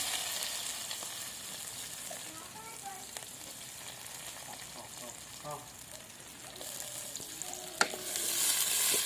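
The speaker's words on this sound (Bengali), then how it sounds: "এরপর পেঁয়াজটা আমি লাল লাল করে ভেজে নেব" Onion frying with green chillies in hot mustard oil, a continuous close sizzle with light stirring clicks and scrapes, swelling louder toward the end.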